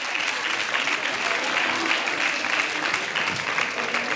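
An audience applauds loudly for flamenco show performers at an International Flamenco Day celebration in Manilva, a continuous, close, dense wash of clapping with no pauses.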